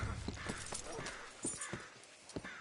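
Horse hooves clip-clop in Red Dead Redemption 2, a steady run of soft thuds at close range under game chatter and a busy background mix.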